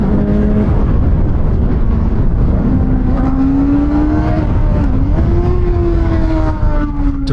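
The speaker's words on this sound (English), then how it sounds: "Get on the throttle again. Wow, the bike lurches forward." A 450–500cc sport motorcycle engine, a KOVE 450 RR or VOGE RR 500 S, holds a loud steady drone and then climbs in pitch as the throttle opens, heard up close while riding, with wind roar throughout.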